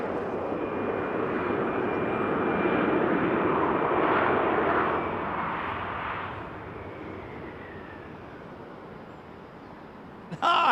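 A Swiss Airbus A321neo airliner at Heathrow Airport roars past as a broad, steady engine rumble that swells and then gradually fades, heard at a moderate distance with no talk over it.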